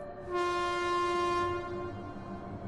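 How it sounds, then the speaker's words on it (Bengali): A train whistle sounds at a station at night, a single long steady tone lasting just over a second, quiet and far off, then a faint rumble. "দূরে একটা হুইসেলের আওয়াজ শোনা গেল"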